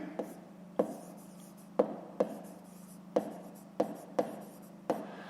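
A pen writing out a fifth-grade math exercise on paper, with faint scratching strokes and regular light taps close by over a steady low hum.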